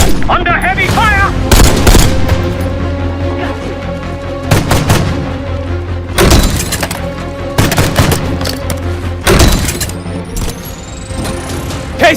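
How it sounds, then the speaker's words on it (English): Heavy gunfire in Call of Duty: Black Ops 6, with loud close bursts of automatic fire and booming blasts arriving in repeated clusters over battle noise, while voices shout in between. "Under heavy fire!"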